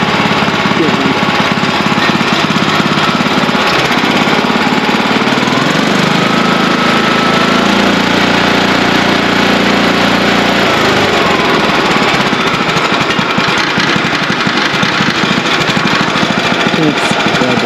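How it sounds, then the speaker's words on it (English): Old WheelHorse garden tractor engine running steadily nearby, a loud continuous rough chugging drone with a brief dip in tone midway, while a person talks over it. "can't beat this old engine"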